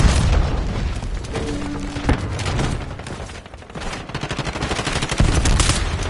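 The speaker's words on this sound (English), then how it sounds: "Activating C4. Watch out, grenade!" Grenade and C4 blasts in a military shooter video game at a hardpoint, with heavy booming explosions and rattling gunfire bursts continuing densely throughout.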